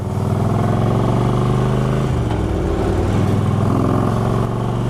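A motorcycle with upgraded exhaust pipes accelerates hard on a highway, its loud, close engine note droning steadily, then shifting pitch mid-way as it keeps pulling, with wind roar throughout.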